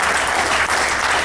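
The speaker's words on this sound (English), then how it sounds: "allow us to give you a round of applause" A steady, dense round of applause fills a meeting room for first-time attendees, many hands clapping at once with no break.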